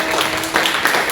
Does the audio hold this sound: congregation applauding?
yes